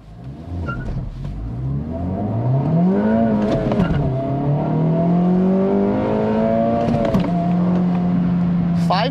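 A 2024 Acura Integra Type S launching hard, its engine note climbing steadily through sustained acceleration with a gear change near the end, loud and close, while the tires struggle for grip.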